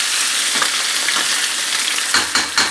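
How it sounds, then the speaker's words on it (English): Vegetables sauté in a hot pan for garlic shrimp spaghetti, a steady close sizzle with soft stirring scrapes, the pan sounds growing busier near the end. "Saute these a little bit, because I don't want to overdo it here."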